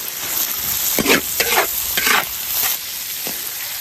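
Chili, spicy sauce, bamboo shoots and cabbage stir-fried in a wok, loud bursts of sizzling with rhythmic scraping strokes of the spatula over a steady frying hiss, close up and without speech.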